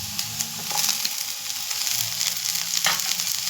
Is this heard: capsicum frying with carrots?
yes